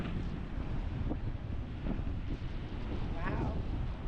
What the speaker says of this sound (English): Windy out this side, isn't it?